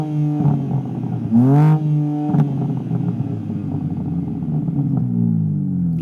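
An engine revs up and settles, its rising and falling pitch sweeping over a steady loud idle, with a brief sharp surge near the middle; a generic car rather than the M3 Touring.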